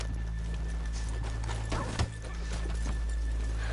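Hooves clip-clop at a steady walking pace over a constant low hum, with a single louder thump midway, from horses in the video game Red Dead Redemption.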